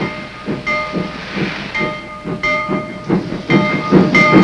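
A military train rolls along rail tracks laid to a beach, steady rumbling with rhythmic clacking of wheels over rail joints, fairly loud and continuous with faint whistle-like tones.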